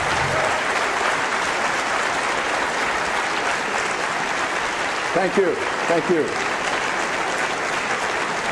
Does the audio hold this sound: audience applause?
yes